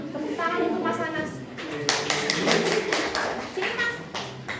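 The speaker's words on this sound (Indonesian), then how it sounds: "Teman-teman, tepuk tangan untuk Mas Anas." Children in a classroom clap together in a short burst of quick, rhythmic hand claps, mixed with young voices talking and calling out before and after.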